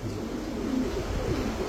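Lahori pigeons give low, soft coos at close range, a steady murmuring layer with no talking over it.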